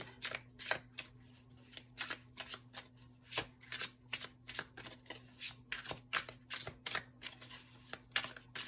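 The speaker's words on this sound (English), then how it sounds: "I'll just go ahead and cut the deck and pull one" A deck of tarot cards shuffled by hand: repeated close, crisp flicks and riffles in an even rhythm over a low steady hum, with no speech.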